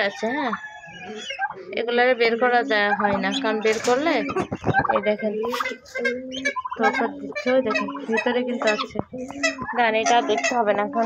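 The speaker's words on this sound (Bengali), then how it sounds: "আমার পাখিগুলো ডাকছে দেখেন" Domestic chickens and other fowl call from close by in a coop, with repeated clucks and crowing-like cries, while someone talks over them.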